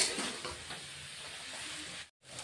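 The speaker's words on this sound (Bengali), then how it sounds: "এখন আর 1-2 মিনিটের মতো কষিয়ে নিব" Rohu fish curry with cauliflower and potato sautéing in a pan gives a soft, steady sizzle and faint stirring scrapes, quiet and close, with a brief drop to silence near the end.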